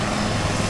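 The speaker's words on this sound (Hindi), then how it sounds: "सेना के 2 हेलीकॉप्टरों का जिसमें उपयोग किया गया।" Army rescue helicopter flying over floodwaters from the Narmada river, a loud steady rotor and engine roar filling the whole moment, close and continuous with no voices.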